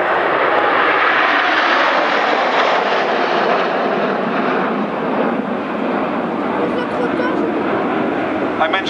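Red Arrows jet aircraft fly over the Koksijde airshow in Belgium, a loud sustained roaring engine wash that slowly shifts in tone, with a voice speaking over it.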